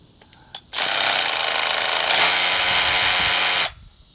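A power drill spins against red brick in one continuous loud whirring run of about three seconds, shifting to a rougher grinding tone midway before stopping abruptly, close and alone.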